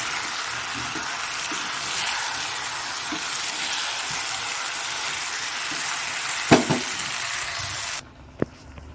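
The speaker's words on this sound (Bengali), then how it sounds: "একটু নাড়াচাড়া দিয়ে দিচ্ছি তাকে ডেচকিতে ঢেলে দেবো" Fish-head cabbage being stirred in a cooking pot, a steady close sizzling, scraping hiss that runs for about eight seconds, with a couple of sharp clanks near the end before it drops to near quiet.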